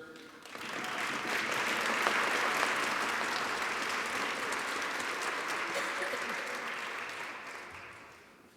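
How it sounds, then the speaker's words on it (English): Audience at a holiday concert breaks into applause that swells quickly, holds as a full, steady roar of clapping for several seconds, then begins to fade. "please give a warm applause to Chris Ryder"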